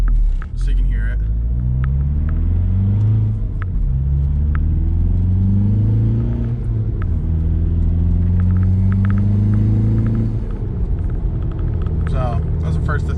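A VW MK4 Jetta TDI with a K&N air filter, not fully warmed up, accelerates through its first gears: a loud, close diesel rumble whose pitch climbs repeatedly with each gear, broken by short dips at the shifts.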